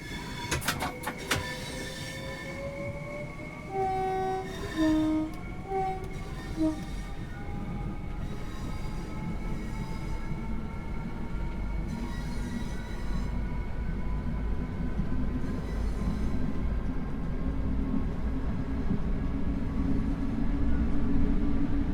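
A Class 465 Networker electric train in a train simulator game hums and whines as it runs, with rising motor tones and a few squeals early on, steady and close throughout.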